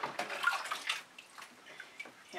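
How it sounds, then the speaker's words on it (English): Water splashes and trickles onto a studio rag in a small dish during a fluid acrylic painting session, a bright burst of pouring in the first second that fades into soft dripping and sloshing. "I'm going to take a moment to put some water on my studio rag."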